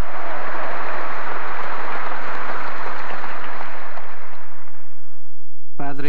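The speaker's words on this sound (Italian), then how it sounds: "Sono stati gli ultimi applausi dei laziali" Loud, dense applause from Lazio football fans fills a large reverberant church, sustained and then fading out, with a brief voice cutting in at the very end.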